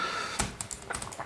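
A few crisp keypresses on a computer keyboard, including the F1 key, tapped to launch a flight from a space station in the 1987 MS-DOS game Elite, close and isolated with short gaps.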